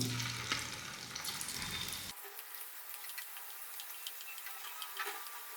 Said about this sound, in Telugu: ఇలా బ్రౌన్ కలర్ వచ్చేదాకా గోలించుకోవాలి